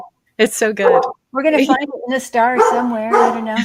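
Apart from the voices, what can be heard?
dog barking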